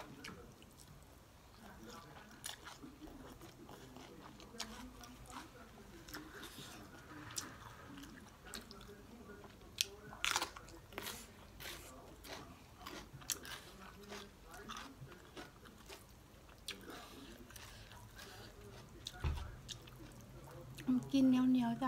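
Close, wet chewing and biting of a spicy Thai rice noodle salad tossed with pork sausage and minced pork in fish sauce, steady soft mouth sounds with a few sharper crunches throughout.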